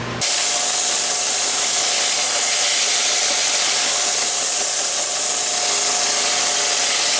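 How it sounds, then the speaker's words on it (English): A belt sander runs steadily and loudly, flattening the bottom of a wooden round cribbage board with a continuous close rushing, abrasive roar throughout. "I think I'm going to use the belt sander for this, try to get as flat as I can"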